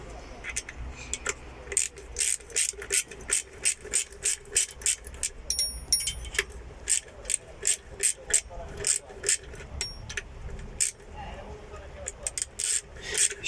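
Rapid ratcheting clicks come in uneven bursts as screws are tightened on an engine block during reassembly. They are close and moderately loud, with low background noise.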